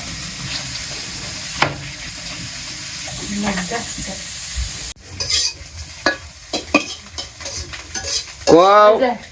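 Taki fish fries in a pan with a continuous sizzling hiss, then turns louder and busier with close scraping and clattering as the pieces are moved around.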